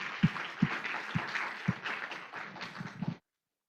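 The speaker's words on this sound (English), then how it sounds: "please give them Another round of applause to the EGCC members" Audience applause for the EGCC members after a competition: a steady wash of clapping with a few louder individual claps standing out, lasting about three seconds before it cuts off.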